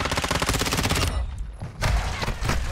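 Rapid automatic gunfire from a Call of Duty match on PlayStation, loud and close, a sustained burst that breaks off, then a heavy thud and another burst of shots.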